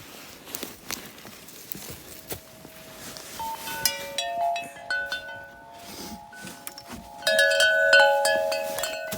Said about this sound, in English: Sorry about the wind chime noise